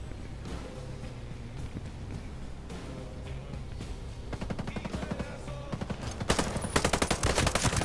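Rapid gunfire in the Ghost Recon Breakpoint video game, steady bursts of automatic shots that grow louder and denser toward the end, continuous over a busy background mix.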